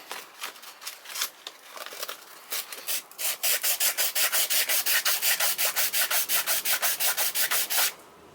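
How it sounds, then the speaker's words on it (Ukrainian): Sandpaper rubs back and forth by hand during a brush cutter repair, starting with scattered strokes and settling into a fast, even series of close, loud rasping swipes before stopping. "Беремо наждачку."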